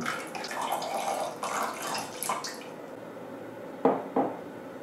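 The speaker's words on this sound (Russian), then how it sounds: "Разбавлю водой до консистенции томатного сока." Water runs into a heavy-bottomed pot of pureed tomatoes, a steady splashing pour that thins out, followed by a couple of sharp clinks near the end.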